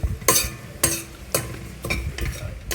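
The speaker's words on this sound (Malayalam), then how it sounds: "അപ്പോൾ നമുക്ക് കുറച്ചായിട്ട് വറുത്തെടുക്കാം." Whole garam masala spices, including several kinds of cumin, dry roasting in a pan, heard as five sharp scraping stir strokes at a steady rhythm. The rattling, clinking sounds are close and fairly loud, with no talk.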